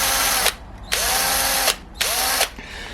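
A power drill whines in two long bursts while drilling a tiny hole for a guitar tuner screw, each spinning up and stopping abruptly, loud and close with short pauses between.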